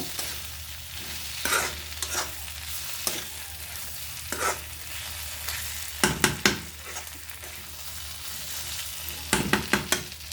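Eggplant fry seasoned with chili powder cooks in a pan with a steady sizzle, and louder scraping stirs come now and then, with clusters near the end. There is no talking.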